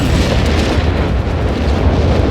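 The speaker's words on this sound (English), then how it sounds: "As the British Royal Navy lays down the big booms." Shells from a British Royal Navy bombardment strike in Company of Heroes 3, a World War II strategy game. Close, overlapping explosions roar and rumble without pause, loud and thick.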